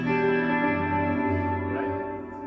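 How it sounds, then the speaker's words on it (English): An electric guitar chord rings through a Taylor Roadshow T5Z on an amp set for heavy reverb, delay and chorus, sustaining thickly and washing out slowly with no dry attack. "I'm going to set the electric amp to a point where there's a lot of reverb and delay and chorusing happening"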